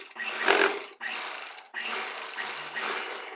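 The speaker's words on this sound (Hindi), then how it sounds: "यहाँ पर बेल्ट को अटैच करने की सिलाई लगाना है।" A sewing machine stitches a belt onto a lehenga in short bursts, a close, whirring mechanical rattle that runs for about a second, pauses briefly, then continues.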